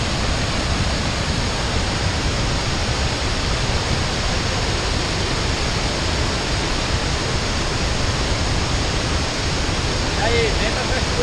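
A waterfall at Cachoeira da Fumaça in Minas Gerais roars steadily as a dense, unbroken broadband rush that fills the whole clip at close range.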